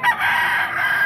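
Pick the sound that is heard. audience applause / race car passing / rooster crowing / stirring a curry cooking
rooster crowing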